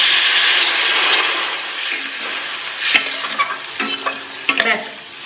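A pan of duck egg curry gets stirred, a loud close sizzle hissing steadily at first, then broken by several clattering scrapes and knocks of the spoon against the pan toward the end.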